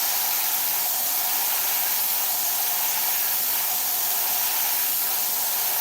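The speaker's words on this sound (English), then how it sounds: "aim the airbrush this way. A lot of air pressure for this." Airbrush spraying acrylic paint onto a stencil on canvas at high air pressure, a steady, loud, unbroken hiss with no talking.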